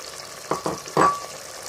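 Tomatoes dropping into hot oil with spices and mutton, giving a few quick bursts of frying and stirring that rise into a louder sizzle near the end, with no talking.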